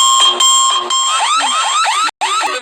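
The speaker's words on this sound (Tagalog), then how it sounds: "Alarm for heavy sleepers" A loud alarm clock made for heavy sleepers rings continuously, a shrill, steady electronic beeping with warbling tones that repeats in rapid bursts, broken by one brief gap near the end.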